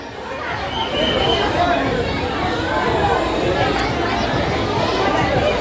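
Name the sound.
crowd chatter at a fair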